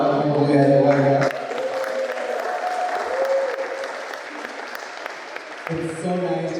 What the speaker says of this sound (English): Can we please have loud applause all of you who are here?